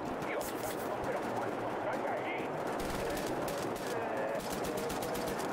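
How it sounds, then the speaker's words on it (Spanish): Gunfire in the action video game Wolfenstein: The New Order, a steady wash of rapid shots and explosions with clicks, continuous and fairly loud throughout, with a player's voice talking over it. "Alguien me está disparando."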